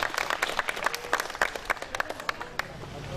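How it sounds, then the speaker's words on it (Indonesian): Audience applause for three speakers at a university book launch, a steady patter of many hands clapping from the crowd, moderately loud with sharper individual claps standing out across the whole stretch. "Bisa beri aplaus yang meriah untuk beliau bertiga"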